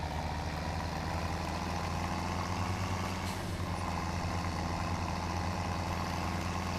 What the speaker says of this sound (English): jump in this other tractor which I left running again